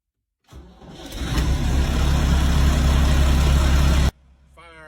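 A John Deere tractor engine cranks over on a chilly morning, catches and settles into a loud, steady, close-up idle for several seconds before cutting off abruptly, with a faint voice afterward.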